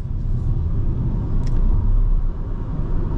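AION Y Plus 490 Premium electric car under full-throttle acceleration, a steady low road rumble and tyre noise heard from inside the cabin, with no engine note rising above it.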